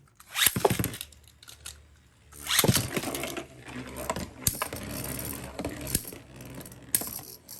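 Metal Fight Beyblades clashing on a stadium track, the BD145 plastic part taking hits: bursts of sharp plastic-and-metal clacks and scraping in irregular flurries, close and fairly loud.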